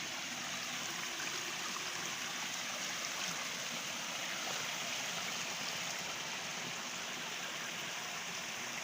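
Fast floodwater rushes across a road after torrential rain, a steady, loud broadband roar of flowing water that continues unbroken throughout with no voices.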